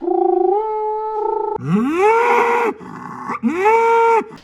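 A bull call horn imitates a bellowing bull: a drawn-out low moo, then two rising, groaning bellows, loud and close.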